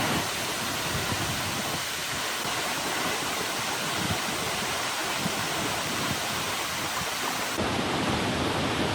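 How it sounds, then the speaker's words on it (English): A 35-metre waterfall at Upper Canyon Falls in remote Australian bush roars as a steady, loud broadband rush of falling water, continuous and close throughout with no voices. "It's about a 35-metre waterfall"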